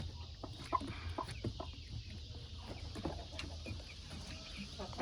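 Backyard chickens, including naked necks, cluck and murmur inside their coop in scattered short bursts close by, with a steady low hum underneath and occasional louder squawks.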